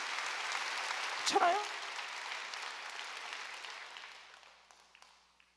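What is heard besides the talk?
congregation applause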